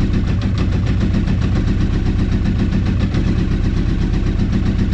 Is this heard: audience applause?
no